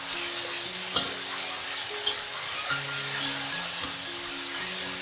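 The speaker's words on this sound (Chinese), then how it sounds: "加入盐、胡椒粉、酱油、素蚝油，炒均匀。" Rice noodles and vegetables are stir-fried with salt, pepper, soy sauce and vegetarian oyster sauce, giving a soft continuous sizzle with a few light clicks from the utensil. Steady tonal background sound runs underneath, and no one speaks.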